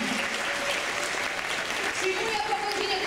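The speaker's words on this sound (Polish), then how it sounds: "Oklaski." An audience at a Silesian carnival-season concert applauds a bass and double-bass player in steady, dense clapping that fills the room throughout, with voices talking over it.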